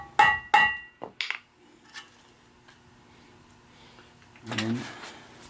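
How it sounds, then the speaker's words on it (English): Two sharp metallic raps of a hammer close by on a Ford 4000 tractor axle, then quieter clinks and a brief rough mechanical burst near the end. "Go ahead and give it a rap with the hammer."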